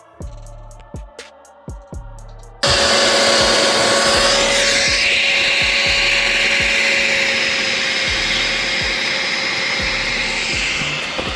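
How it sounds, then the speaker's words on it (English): After a few quieter knocks, a wet vacuum cleaner roars on and runs loudly and steadily, a strong continuous whine with faint bumps underneath, cleaning a BMW E60. "I love this water vacuum thing."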